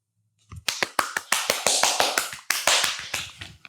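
Rapid hand clapping during an Ashtanga yoga practice, a fast run of sharp, close claps starting after a brief quiet moment and continuing evenly to the end.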